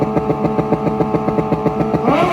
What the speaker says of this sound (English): Meeks out of Florida is taking his Kawasaki ZX-14 to the final round